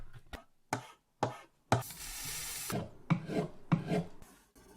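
Wooden violin parts being rasped by hand during instrument making: repeated rough scraping strokes, several short ones then longer sustained passes, close and clear with no talk.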